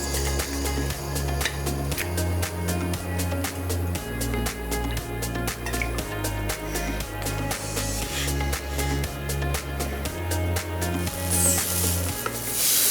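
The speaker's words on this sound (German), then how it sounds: "Dann geht es jetzt ans Anbraten unserer Erbsenprotein-Patties." Pea protein burger patties frying in oil in a pan: steady, crackling sizzle throughout, heard over rhythmic background music.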